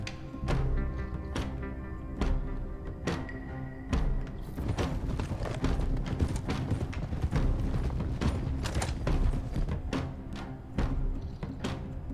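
Horses gallop in Red Dead Redemption 2, a steady run of heavy hoof thuds over several seconds under a backdrop of music and ambience.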